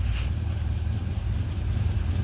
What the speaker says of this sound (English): What do you know? It's idling.